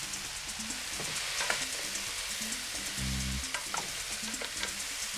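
Zucchini, yellow squash and eggplant sizzle steadily in a hot pan as they caramelize, a close, continuous crackle with a brief low thump partway through and no voices.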